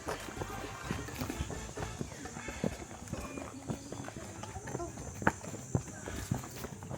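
Horse hooves clip-clop at an animal park in Zambales, where horses and donkeys are kept together, in an irregular walking rhythm under steady chatter and background noise.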